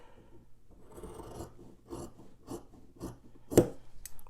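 Scissors trim loose thread ends on knit fabric from zig-zag-stitched boxer briefs, giving a series of soft rasping snips at a steady rhythm, close and fairly quiet, ending in one sharper cut.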